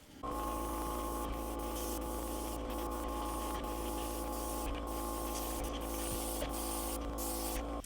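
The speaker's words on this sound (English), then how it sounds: "And I'm going to spray a yellowish orange on these, and we'll spray these with turquoise." Spray paint in yellowish orange and turquoise hisses onto small concrete pieces in a continuous close spray broken by brief pauses, over a low steady hum.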